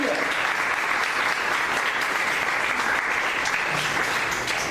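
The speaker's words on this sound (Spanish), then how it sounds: "Denle ofrenda de palmas a Él." A church congregation applauds steadily and loudly throughout, a dense wash of clapping with a few indistinct voices mixed in.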